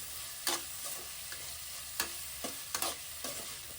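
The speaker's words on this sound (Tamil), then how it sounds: "நான் நறுக்கி வச்சுருக்க எல்லா கேப்சிகமுமே இதில் போட்டு நான் அதை என்ன பண்ணிக்கிறேன், நல்லா ஃப்ரை பண்ணிக்கிறேன்" Chopped capsicum frying in a pan for tomato capsicum rice, an even close sizzle punctuated by five or six crisp spatula scrapes against the pan, with no voices.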